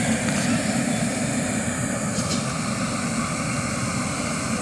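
A GE dehumidifier runs at maximum setting, giving a steady, loud broadband whir and hum from its fan and compressor that holds constant without breaks throughout.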